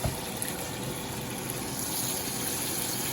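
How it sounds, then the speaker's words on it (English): Cola Vita white wine vinegar poured into a bowl, a steady liquid stream rushing continuously and fairly quietly throughout. "We're going to add half of this. This is the Cola Vita white wine vinegar."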